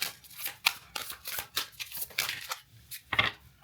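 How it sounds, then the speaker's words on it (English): A deck of tarot cards is shuffled by hand in a quiet room, giving quick papery riffles and soft slaps in short irregular bursts, close and clear, with no voices. "Okay, so I will start shuffling now."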